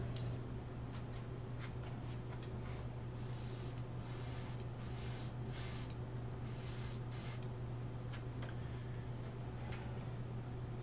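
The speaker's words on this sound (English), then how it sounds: "I've had really bad luck spraying metallics through my airbrush" Short hissing bursts from an airbrush spraying metallic paint onto a prop baton, several spurts of a few tenths of a second each against a steady low electrical hum and faint ticking, heard close but quiet.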